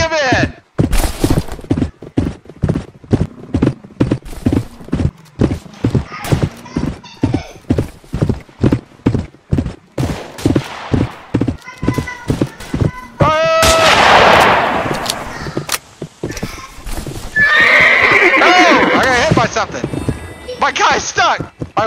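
Horse hooves clip-clop in a steady rapid rhythm in Roblox Westbound, followed by bursts of gunfire and sharp shots near the end, with voices talking over parts of it.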